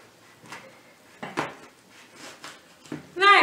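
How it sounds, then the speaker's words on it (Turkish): A knife cuts a quarter of a lemon on a board, giving a few sharp separate taps and chops spaced over a few seconds, close and fairly quiet, with a brief louder burst at the end. "Ben şöyle limonumun çeyreğini kesiyorum"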